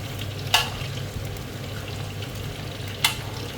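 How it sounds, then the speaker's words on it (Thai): Salted pork belly frying in oil gives a steady close sizzle, broken by two brief clinks of a utensil against the pan. "อันนี้เป็นสามชั้น เค็มนะคะทอดเค็ม"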